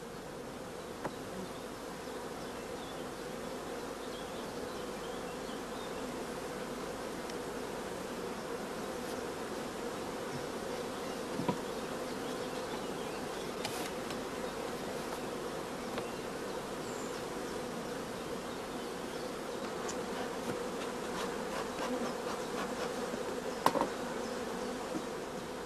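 Dense, steady humming of honeybees massed on a brood comb in a hive frame, a continuous close drone with occasional individual bees buzzing past.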